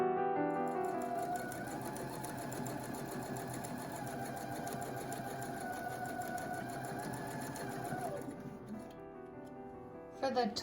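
A sewing machine stitches binding tape in a steady, close, continuous rapid mechanical whir that stops near the end, with faint talking underneath.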